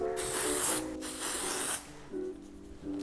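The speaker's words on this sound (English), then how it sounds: "So you just section out the hair and spray it in at the roots." Virtue Refresh dry shampoo hisses from an aerosol can into the roots of sectioned hair, two longer bursts then a shorter one, close and loud with no voices.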